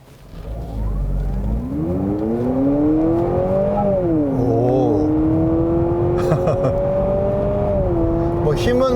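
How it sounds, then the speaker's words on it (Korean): A Honda CR-V Hybrid with a 2.0-litre four-cylinder engine accelerates hard on a highway, its engine note rising smoothly in pitch and holding at a loud, sustained level, with wind and road noise underneath. "다시 한번 급가속을 해 보겠습니다."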